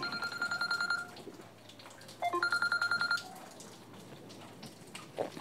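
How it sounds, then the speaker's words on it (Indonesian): A phone rings for an incoming call with bursts of electronic ringtone tones, a repeating pulsed pattern played twice with a pause between, set over a low steady background hum. "maaf ya ada telepon masuk."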